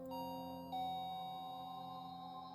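A doorbell sounds as an effect in a narrated horror story, a steady electronic tone with a second chime-like strike partway through, fairly faint and alone without any voice.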